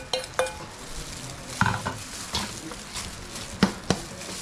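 Sisig with chicken liver is stir-fried in a pan, with faint sizzling under scattered scraping and clanking of a spatula or spoon against the metal.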